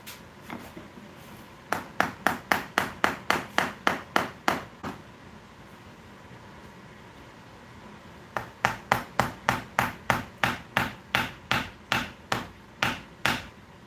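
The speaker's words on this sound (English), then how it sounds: "Just using one screwdriver to hit another." Metal screwdriver struck against another screwdriver to pry apart a clay-sealed mask mold, two rapid runs of sharp, evenly spaced tapping clicks with a short pause between them, close and fairly loud.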